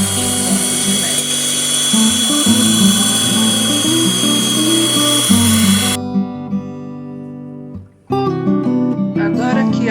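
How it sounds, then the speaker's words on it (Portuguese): Electric stand mixer beating egg whites into stiff peaks, a steady loud motor whir with rising pitch that runs continuously, briefly dips near the end and then resumes. "A batedeira é melhor mesmo para que você tenha as claras em ponto de neve."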